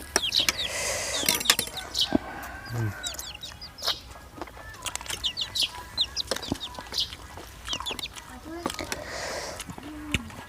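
Chickens cluck and squawk repeatedly at close range, with a rooster among them, in a rural yard; people talk intermittently over the birds.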